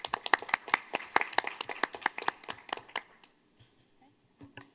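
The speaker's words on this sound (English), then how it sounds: "another round of applause" Applause at a school board meeting: a burst of hand clapping from a small group for about three seconds, tapering off to scattered claps and faint room noise.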